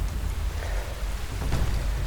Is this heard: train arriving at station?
no